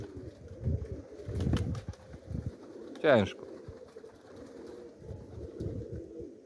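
Racing pigeons coo softly near a loft, with a sudden burst of wing flapping midway, while someone speaks Polish briefly over the birds.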